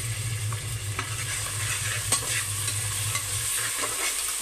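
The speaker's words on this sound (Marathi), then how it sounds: "आता यामध्ये मी आलं लसूण पेस्ट घालते।" Ginger-garlic paste sizzles and fries in hot oil with onion and curry leaves while mutton chops fry is being cooked, a steady close crackle with light stirring scrapes throughout.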